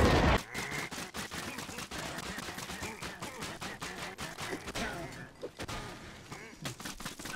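Rapid bursts of fireworks exploding in the game Minecraft Dungeons, a dense run of loud popping cracks and thumps that continues steadily for several seconds with a little voice mixed in.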